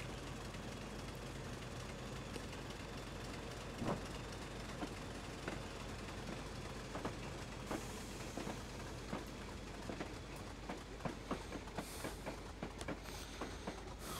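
A Class 25 diesel locomotive running in a train simulator game on a Weardale and Teesdale route, a steady engine drone under repeated rail clicks and clatter that come more often toward the end.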